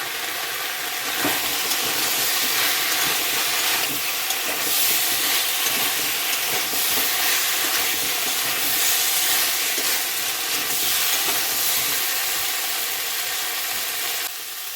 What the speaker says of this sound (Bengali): ডাঁটাগুলো দিয়ে আরও একবার ভালো করে কষিয়ে নেব